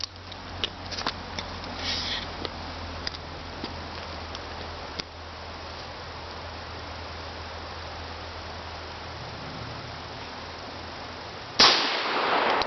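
A Smith & Wesson Model 10-5 revolver fired at an outdoor shooting range: scattered sharp reports over a steady hiss of background noise, ending in one louder blast near the close.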